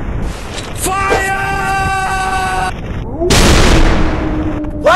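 Game gunfire in a commando shooting video game set in a city level fires in loud repeated bursts, with sharp blasts, electronic tones and a heavy boom late on, close and dominant throughout.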